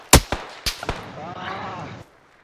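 A few sharp gunshots crack out in PUBG, two quick pairs of loud reports, followed by a short stretch of muffled rumble and a voice before fading to quiet.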